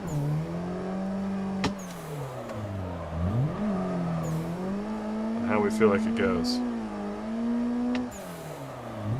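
Car engine note from a sim racing game driven with a direct drive wheel on a fantasy track, a steady drone that rises and falls with revs and dips once sharply, with someone talking over it throughout.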